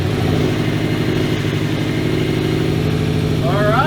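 A rebuilt Subaru STI engine that had been blown runs at a steady idle, close and loud with an even rumbling pulse, and a voice speaks briefly near the end.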